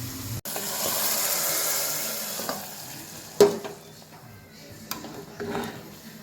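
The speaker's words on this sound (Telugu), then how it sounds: "ఇప్పుడు ఈ పోపుని మరుగుతున్న చారులో పోసుకోవాలి." A hot tempering of fried onions and a pinch of turmeric is poured into boiling horse gram rasam, a steady bubbling sizzle with a sharp splash and a couple of clattering stirs, no voices.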